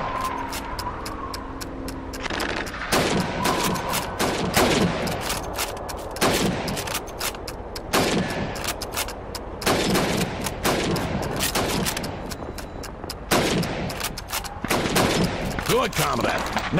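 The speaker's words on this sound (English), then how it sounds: "You have 15 seconds to shoot the helmets." Rifle shots fired in rapid succession at helmet targets on a timed shooting range in Call of Duty 2, loud sharp cracks repeating about every second with brief bolt-action and handling noises between them.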